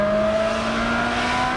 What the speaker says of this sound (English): I don't know where the Ferrari 360 ranks on the how good it sounds leaderboard when it comes to Italian supercars